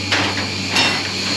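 On a farm during corn harvest, a hammer strikes a steel punch to spread a part apart, giving about three sharp metallic blows, close by, with a steady mechanical hum underneath.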